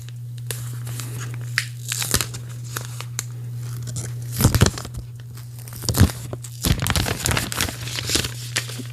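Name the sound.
peeling plastic film off a new smartphone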